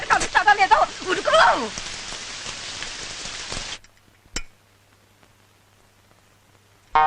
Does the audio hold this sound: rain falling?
yes